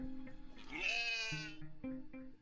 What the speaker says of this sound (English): The goat.